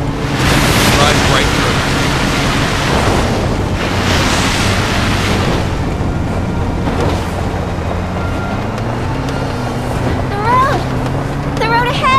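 River water rushes in the video game Disaster: Day of Crisis, a loud, steady roar of churning water that continues unbroken throughout.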